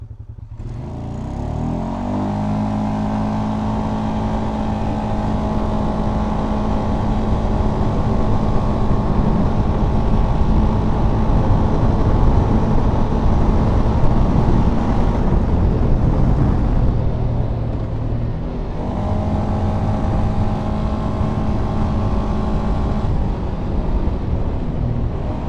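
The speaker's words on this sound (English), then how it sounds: "Shift it into four-wheel drive and do a little 0 to 60 here" A Polaris Sportsman 570 ATV in four-wheel drive accelerates hard on a trail, its engine droning and rising steadily with a brief dip mid-run before climbing again, loud and close.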